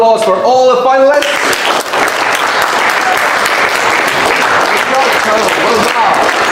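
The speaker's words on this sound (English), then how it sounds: "let's give a huge round of applause for all the finalists" An audience at a debate tournament final applauds the finalists with loud, dense clapping that runs steadily to the end. A voice is heard briefly at the start.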